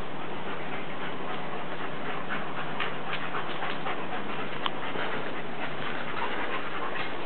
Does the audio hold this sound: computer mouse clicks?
no